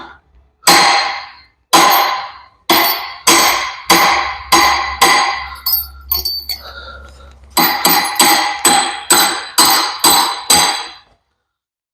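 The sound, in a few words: hammering a hydraulic cylinder gland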